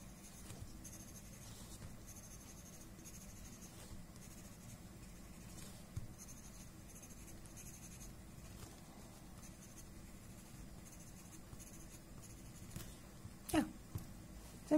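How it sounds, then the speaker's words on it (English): A chalk pencil scratches and rubs across paper in soft, continuous strokes, with a few brief louder scrapes, close and quiet under a faint background hum. "With the chalk pencil,"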